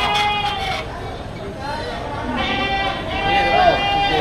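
Goats bleating nearby at a livestock auction in Padre Garcia, Batangas, Philippines, several drawn-out wavering cries over a background of people talking.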